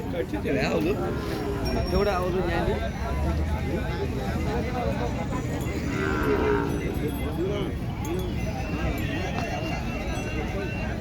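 Large Jersey cows mooing repeatedly at a cattle market amid a noisy crowd, with people talking loudly throughout and other livestock sounds mixed into the busy market din.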